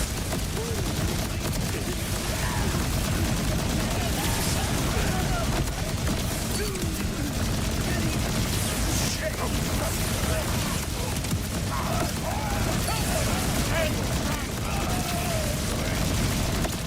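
Dense, continuous combat din from Borderlands 4 with shotgun blasts at a slow fire rate among other booms and mechanical noise, loud throughout with a voice talking over it.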